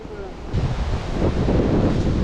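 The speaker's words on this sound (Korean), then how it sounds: "야 바람 죽인다" Strong wind sweeps across the Gongryong ridge of Seoraksan, a continuous roaring rush buffeting close to the microphone that swells louder after the first half second and stays heavy throughout.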